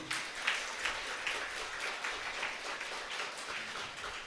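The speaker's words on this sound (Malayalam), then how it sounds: "നല്ലൊരു തീപ്പൊരി കൈയടി നമ്മുടെ കർത്താവിന് കൊടുത്ത നല്ലൊരു കൈയടി" A congregation at a retreat service applauding together, a sustained wash of many hands clapping at a distance, moderately faint and steady throughout.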